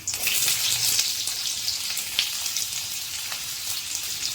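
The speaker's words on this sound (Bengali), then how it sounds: "আমি প্রথমে তেজপাতা দিয়ে দিলাম, তারপর আলুগুলো দিয়ে দিলাম।" Bay leaf and potato pieces frying in hot oil in a home kitchen pan, a continuous bright sizzle with crackling pops and spits scattered throughout, close and fairly loud, with no voices.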